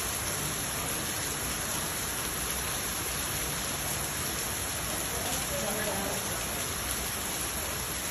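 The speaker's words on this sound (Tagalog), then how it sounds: "ang lakas ng ulan guys oh" Heavy rain in Honolulu pours steadily, a dense continuous hiss filling the whole stretch without pause.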